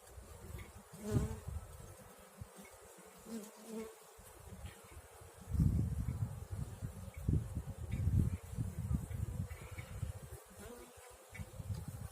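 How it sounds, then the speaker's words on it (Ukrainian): Honeybees buzz in a steady drone close by at hives just set out from winter storage in spring, swelling louder in waves as insects fly near, with faint rustling in the background. "Бджоли весну відчувають,"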